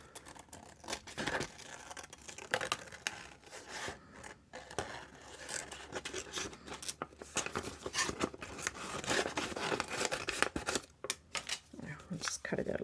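Scissors snip and slice through paper for an art journal in a quick, uneven series of close crisp cuts, with rustling of the sheet and some talk.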